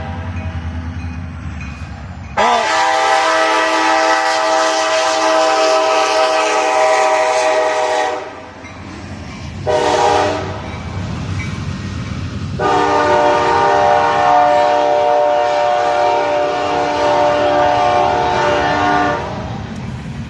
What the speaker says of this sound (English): later we've updated some revisions as the train comes through